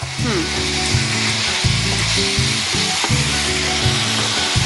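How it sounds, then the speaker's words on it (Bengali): Onion sizzles steadily in a pan on a cooking-show kitchen stove as garlic and ginger paste go in, a loud continuous fry with occasional stirring scrapes under people talking. "এবার দেবো রসুন আদা বাটা। হ্যাঁ, একটু লাল হয়ে যাক পেঁয়াজটা।"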